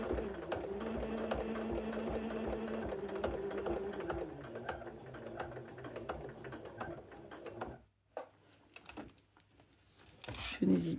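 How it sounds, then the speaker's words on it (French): Sewing machine slowly stitching along patterned fabric, a steady close mechanical whirr for about eight seconds, then a stop with a few handling clicks and a brief restart, under a woman's quiet speech. "Et là, je viens coudre, j'y vais doucement, en fait, hein, pour être sûre de ne pas coudre dans mon tissu à motif."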